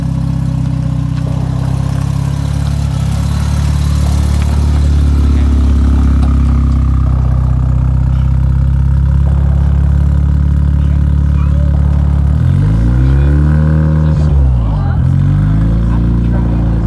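A Eunos Cosmo with a 13B rotary engine idling just after its first start, a loud close steady drone with a slightly uneven burble and a brief swell near the end, with a voice over it.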